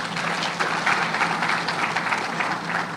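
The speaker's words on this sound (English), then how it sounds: "I think we need to clap for her," Audience applause at a regulatory-authorities meeting in Mombasa, a brief burst of many people clapping together, fairly loud and steady across the short span with no speech over it.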